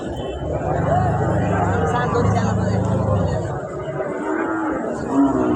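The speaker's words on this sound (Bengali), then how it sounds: "প্রচুর গরু উঠছে" Cattle at a large, old weekly Friday market, with occasional lowing amid a steady crowd hubbub and people talking nearby throughout.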